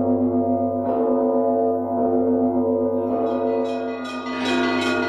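Church bells ring out during an Orthodox cross procession with banners and icons circling a cathedral, with layered sustained tones, fresh strikes swelling in every second or so, and loud, steady ringing throughout.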